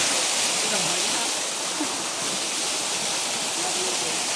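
River water flowing through a forest makes a loud, unbroken rushing roar that holds steady from start to finish.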